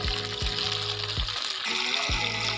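Chicken koftas fry in hot oil, sending up a dense, steady sizzle and bubbling while a utensil stirs them, with a few low knocks and scrapes and no talk.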